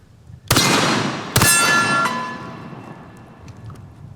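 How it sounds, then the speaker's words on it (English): An over-under shotgun fires two mini shells in quick succession, each a sharp crack followed by a ringing, metallic tail that fades out. "you can shoot mini shells with no issues whatsoever. We'll try two of them."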